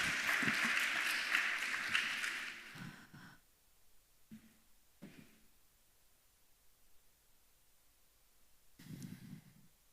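A crowd applauds panelists at a food forum, a broad wash of clapping that fades after about three seconds, leaving quiet room sounds with a few low rustles and breaths.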